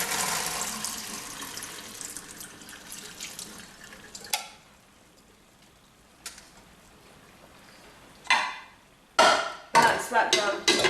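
Water is poured off pans into a sink in a kitchen, a long splashing, gurgling stream followed by several sharp clatters and short bursts of running water as the pans are handled.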